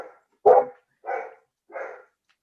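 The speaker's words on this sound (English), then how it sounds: "But I have an anxious dog." An anxious dog barks three times, the first sharp and loud, then two softer, drawn-out barks spaced about half a second apart, close by with no talking.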